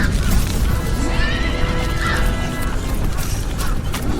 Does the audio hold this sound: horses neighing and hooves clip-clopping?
yes